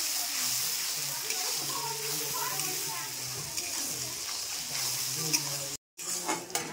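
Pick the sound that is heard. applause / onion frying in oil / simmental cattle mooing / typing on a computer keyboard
onion frying in oil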